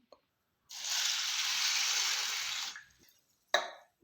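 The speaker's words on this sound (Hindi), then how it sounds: "इसे 2 बार साफ़ पानी से धो लेंगे और मसल-मसल कर धोने की ज़रूरत नहीं है।" Sago pearls are washed in clean water, giving a broad splashing, rushing burst of about two seconds, followed by a short quiet gap and then a brief slosh.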